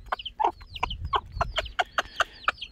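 Mother hens and their chicks cluck in a quick series of about a dozen close, distinct calls with short pauses between them, some overlapping peeps, and no talking.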